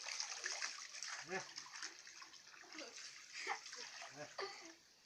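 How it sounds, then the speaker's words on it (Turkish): Water splashes and sloshes as it is poured over a small child's head in a home bathtub, a continuous wet pouring and splattering close by, with adults talking and a voice over it throughout. "Yavaş kafasına indir suyu."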